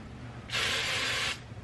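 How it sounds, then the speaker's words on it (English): One short burst of TRESemmé aerosol hairspray hisses for under a second, close and fairly loud, starting and stopping sharply against a quiet room. "spray with hairspray."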